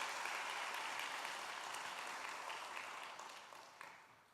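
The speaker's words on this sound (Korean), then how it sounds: "훌륭한 믿음의 가정 되도록 우리 박수 한번 해줘요." A church congregation applauds during a sermon, steady massed clapping at moderate volume that gradually tapers off near the end.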